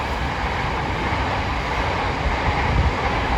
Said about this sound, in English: It's also the second oldest passenger train line in London.